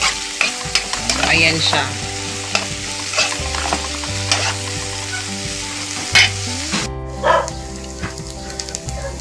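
Malunggay leaves stir-frying in a pan for fried rice, with loud continuous sizzling and sharp scraping stirs of the spatula, while someone talks briefly.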